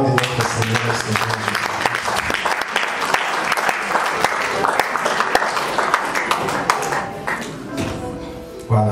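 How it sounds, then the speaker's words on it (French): A crowd claps at a memorial tribute, dense sustained applause that fills the whole stretch before thinning out near the end. "Nous acclamons pour la gloire de notre Seigneur"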